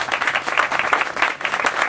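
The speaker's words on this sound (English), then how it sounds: "she deserves a big, big round of applause" An audience at a hospital clinic opening event breaks into sustained, dense applause, many hands clapping at once, steady and fairly loud throughout.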